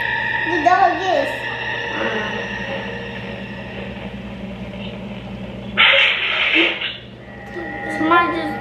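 A dog barks and yips in scary-compilation footage, with several short barks early on and again near the end, mixed under excited talking and a sudden burst of noise midway.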